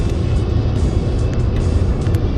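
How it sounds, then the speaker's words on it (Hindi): A car speeds along the Purvanchal Expressway toward Lucknow, its engine and road roar loud and steady from inside the cabin, with a dense rumble and constant tyre noise. "गाड़ी की स्पीड बढ़ने लगी है"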